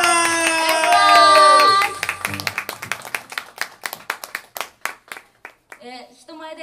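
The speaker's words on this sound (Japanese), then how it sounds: "盛大な拍手でお迎えください。" Audience members at an acoustic music contest clap to welcome a performer, first buried under loud music and an announcer's voice, then thinning into scattered, distinct individual claps that slow and fade.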